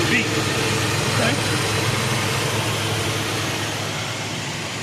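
A cleaned-up carburetor on an Oldsmobile Delta 88 lets the engine idle steadily and evenly up close, with a constant low hum and broadband roar, under a voice.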